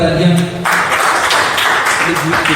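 An audience at a live Hindi poetry recital (mehfil) breaks into loud, sustained clapping that fills the room, with a voice briefly audible at the start.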